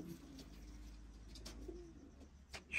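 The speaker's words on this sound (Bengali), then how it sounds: "ইজিপ্টের কবুতর" Egyptian pigeons among fancy birds in Oman coo softly and faintly in a few low, throaty calls over a quiet background hum.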